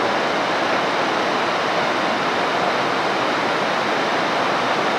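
A flooded river in Nepal rushes in a loud, continuous broadband roar of churning water, steady and unbroken throughout, with no voices.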